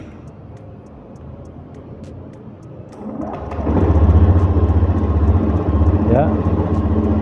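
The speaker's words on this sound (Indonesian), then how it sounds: "Baik, kita coba nyalakan motornya ya." A fuel-injected motorcycle engine is started partway through, then settles into a steady, loud low idle close by. A single brief word is spoken just before the engine fires.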